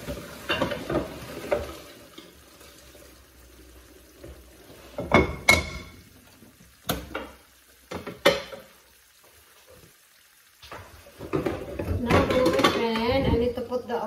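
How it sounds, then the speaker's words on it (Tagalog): Pasta is drained and tipped into a frying pan, giving scattered clatters, splashes and clanks of pots, a loud burst of sizzling and stirring near the end, with a person talking in between. "I drain it my friend and I put it in the frying pan"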